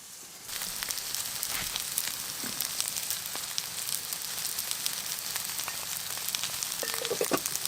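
Hash browns, carrots and gravy frying in a pan on a DIY hot-tent stove in deep snow, a loud steady sizzle that starts abruptly and continues with crackling pops.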